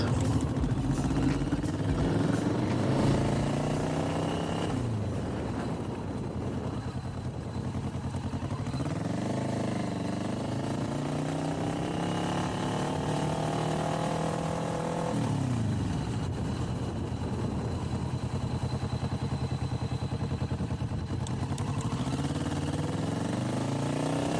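A 2021 Kawasaki Vulcan S 650 motorcycle is ridden at steady speed, its engine droning nearby and rising and falling in pitch as it shifts and accelerates, with wind noise throughout.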